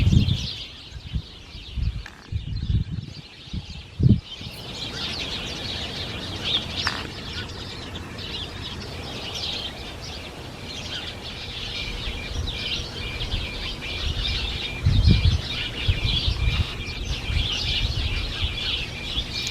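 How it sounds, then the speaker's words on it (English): Small birds chirp and tweet busily at a garden feeder in an autumn-decorated garden, with a steady bright twittering through the whole stretch and a few soft low thumps and flutters nearby. "I think the little birds are all still excited about the smorgasbord they're being served."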